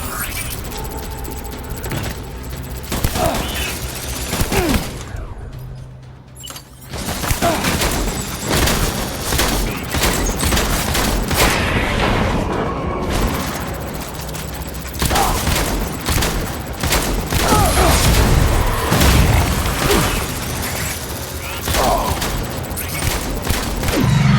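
Gunfire from the video game Death Stranding plays for most of the clip: dense bursts of automatic fire, single shots and mechanical clatter, loud and close. There are short lulls, and shouted voices come through the battle.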